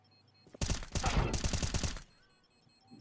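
Rapid automatic gunfire in a Counter-Strike 2 match, a close, loud burst of evenly spaced shots lasting about a second and a half before cutting off to near quiet.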